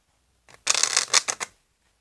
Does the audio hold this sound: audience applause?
no